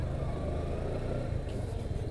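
Congested city street traffic outside a home, a steady low rumble of idling and slowly moving vehicles with faint distant horns, no talking.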